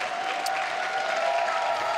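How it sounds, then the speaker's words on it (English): Audience applause at the opening night of the Beyond the Bars Conference as a panel walks on stage: steady, dense clapping from a large crowd that holds at an even level for the whole stretch. "Let's give them a round of applause as they come up."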